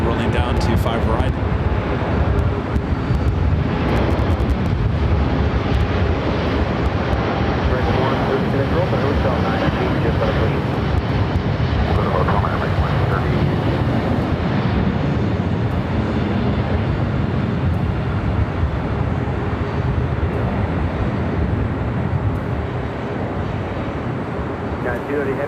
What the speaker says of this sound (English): Dreamliner heading to Sao Paulo, Brazil. Now rolling down 25 right.